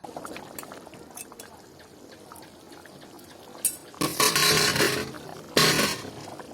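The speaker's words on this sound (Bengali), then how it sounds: "এবার আমি জল দিয়ে দিচ্ছি জলটা দিয়ে ভালো করে নেড়ে দিব" Water is poured into a simmering duck meat curry in a home kitchen, faint stirring and clatter first, then two loud gushing splashes of liquid hitting the pot.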